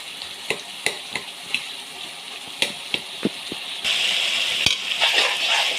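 A spoon mashes and stirs tomato rice in a pan, giving soft repeated taps and scrapes, then a steadier sizzle and wet churning as the mixture is pressed down.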